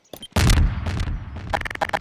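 Explosion in Garry's Mod, a sudden loud blast that booms and decays over about a second, followed by sharp crackling bursts, with no voices over it.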